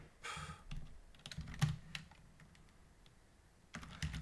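Code being typed in Haskell on a computer keyboard: a run of quick, close key clicks in uneven bursts, with brief pauses between them and a louder flurry near the end.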